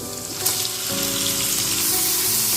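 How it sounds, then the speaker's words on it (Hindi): Green onions and marinated chicken fry for chowmein in a hot pan, a loud, close, continuous sizzle that swells brighter and fuller partway through as the chicken goes in, with no talk. "हरी प्याज डालने के बाद इसे फ्राई करेंगे"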